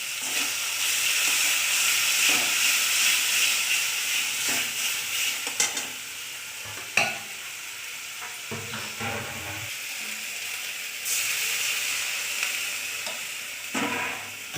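Tomato and fried chillies sizzle loudly in a hot pan, a steady bright hiss with occasional stirring scrapes and clatters breaking through.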